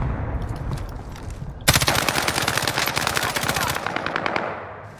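M13 assault rifle fire in the Warzone video game, a sudden loud sustained burst of rapid automatic shots lasting a few seconds over faint game ambience.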